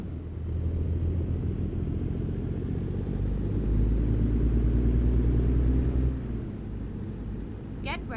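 A heavy truck engine in American Truck Simulator, hauling a 38,000 lb load, rumbles low and steady, swelling slightly before the revs drop off near the end as the gears shift smoothly.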